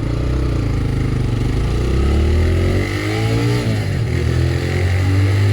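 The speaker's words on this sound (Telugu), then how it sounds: "బైక్ని మనం లిమిట్స్కి అయితే పుష్ చేసి చూద్దాం." A TVS Raider 125 motorcycle engine revs up hard on the road and keeps accelerating, loud and close, its pitch climbing and shifting through gears.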